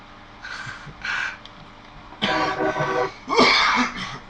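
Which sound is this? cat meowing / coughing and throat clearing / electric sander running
coughing and throat clearing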